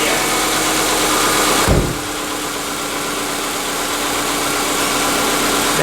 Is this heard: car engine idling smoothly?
yes